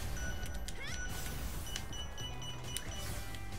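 A cat meows in Gravity Rush Remastered, several short mewing calls over a steady game sound bed, fairly faint and mixed with other soft effects.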